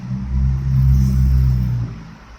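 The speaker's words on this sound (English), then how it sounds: "See the cars coming around" A car rumbles past on the road, its low engine drone swelling and holding for about a second and a half before fading, moderately near with no talk over it.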